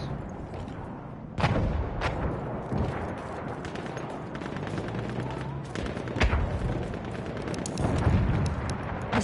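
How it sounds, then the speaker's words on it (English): Rapid bursts of machine gun fire and heavy explosions in a multiplayer war video game, loud and sustained with sharp repeated impacts, faint voices in the background. "Machine gun, hostile."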